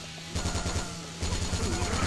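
Rapid gunfire from zombie-shooting action in the video game Yakuza: Dead Souls, a steady rhythmic burst of shots that pauses briefly and resumes, loud and close with game ambience underneath.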